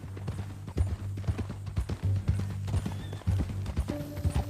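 Horse hooves clip-clop steadily in Red Dead Redemption 2, loud and near, with a horse whinnying briefly in the game world and a low steady hum underneath.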